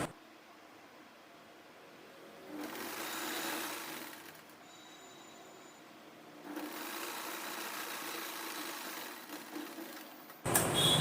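Sewing machine running in bursts while stitching a long frock, starting and stopping for a few seconds at a time at close range, with quieter pauses between runs and no talk.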